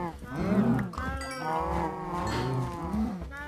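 Cows in the video game Minecraft give long, droning moos, several overlapping calls heard clearly and close.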